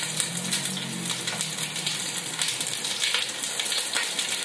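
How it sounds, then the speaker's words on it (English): Onions and shallots frying in very hot oil, a dense steady sizzle crackling evenly throughout at close range with no talking. "Kita nak minyak betul-betul panas, so we can sort of char our onion"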